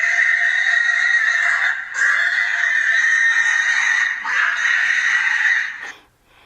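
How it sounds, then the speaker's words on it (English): Recording of a pig squealing played back over a telephone, a loud, sustained, tinny shriek that continues with only brief dips before cutting off near the end. "This is what a pig sounds like at some point."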